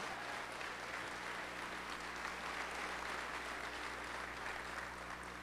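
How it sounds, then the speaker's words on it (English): A packed community hall audience at a Fort Leonard Wood listening session claps steadily, dense sustained applause filling the room from start to finish. "Let's give ourselves a hand."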